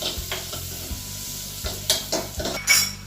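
Crushed ingredients stirred in a hot pan, a utensil scraping through them in repeated strokes over a steady low sizzle, close and clear with no voices.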